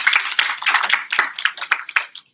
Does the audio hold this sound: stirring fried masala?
no